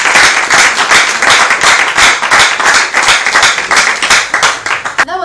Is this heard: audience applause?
yes